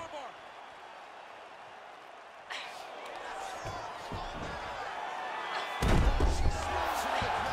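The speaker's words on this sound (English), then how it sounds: "Lift your opponent up and slam her to the ground." A fighter lifted and slammed to the ground in UFC 4, a heavy thud landing late amid crowd noise and arena ambience, with commentary voices talking throughout.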